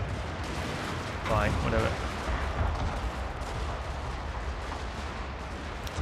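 Cannon and gunfire boom through a battle in the video game Shogun 2: Fall of the Samurai, a steady rumbling barrage under a man's brief spoken remark.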